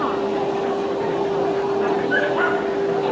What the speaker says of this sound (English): Look at the little magical dog.